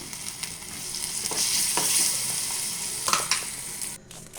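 A spoon works through brinjal chutney mixed with turmeric and a ground paste in a hot pan, giving close scraping strokes over a continuous frying sizzle with a few sharper clinks near the end.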